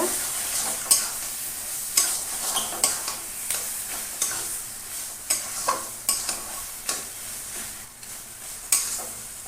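Taro leaves cooking down with a fish head in a dry pan, stirred in a regular rhythm, each stroke a sharp scrape over a soft continuous sizzle.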